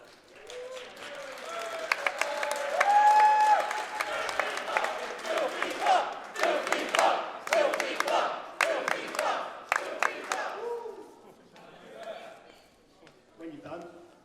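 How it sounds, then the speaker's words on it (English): Audience at a wrestling show cheers and claps in scattered bursts, with shouts and voices rising over the crowd noise and fading toward the end. "give him a round of applause"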